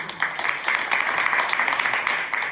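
Audience applause at the opening ceremony of an environmental sociology symposium in East Asia, a steady wash of clapping from a hall crowd lasting a couple of seconds, moderately loud.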